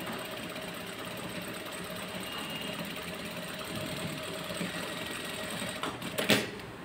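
A JACK industrial sewing machine runs steadily while sewing a decorative stitch, giving a continuous even mechanical whir with a faint rhythmic ticking and a short louder clatter near the end.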